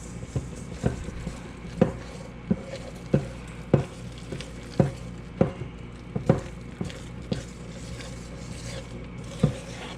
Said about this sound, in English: Nice, good stir.